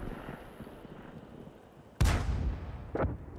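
Artillery in the tank game World of Tanks: one loud, close boom with a long rumbling tail, then a smaller second blast about a second later, over steady game background noise.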